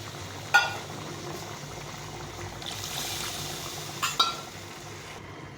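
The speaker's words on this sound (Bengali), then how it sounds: "এখন আমি একটু জল দিয়ে দেবো" Water poured into a simmering Bengali fish curry with elephant-foot yam and potato, a soft bubbling boil and liquid rush with a few sharp clinks of a pot and utensil, close by with no talk.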